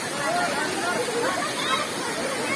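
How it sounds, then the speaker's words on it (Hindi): Water tumbling down one of two tall waterfalls, roughly 50 to 60 feet high, inside Bhadrakali cave, a steady broadband rush filling the space, with faint voices murmuring underneath. "शानदार दो लगभग 50-60 फीट के झरने हैं।"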